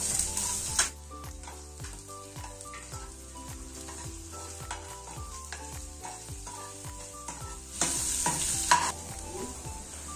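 Onions fry for restaurant-style chilli chicken in a hot pan, a constant close sizzle cut by rhythmic spatula clacks and scrapes, with two louder bursts of hissing at the start and near the end.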